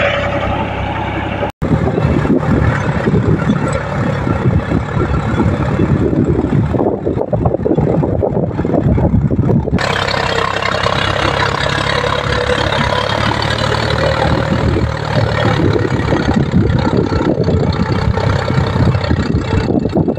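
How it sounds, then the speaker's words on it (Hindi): A tractor engine running in high first gear while ploughing a field, a steady loud diesel drone with rumbling low end that continues throughout, briefly cut once near the start. "और ट्रैक्टर बहुत ही शानदार तरीके से चल रहा है"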